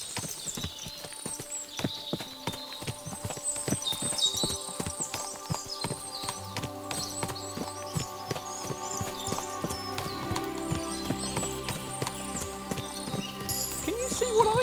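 Horses' hooves clip-clop steadily in Kingdom Come: Deliverance 2, several animals walking at a moderate distance, with occasional snorts and a background musical drone building over the steady clatter.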